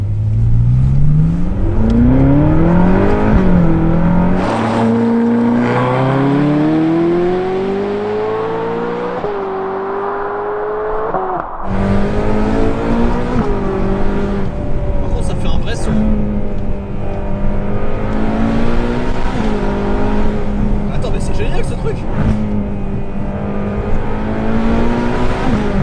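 A Ferrari California engine revs and pulls through gears while driving, a smooth, round rising and falling drone close up, with intermittent talking over it.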